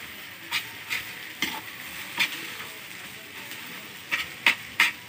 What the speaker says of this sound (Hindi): ये बर्तन और चूल्हे पे बन रहा है आज खाना